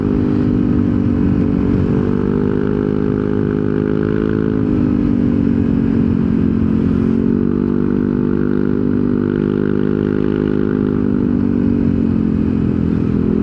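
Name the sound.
Yamaha NMAX scooter with Techmax 155 CVT accelerating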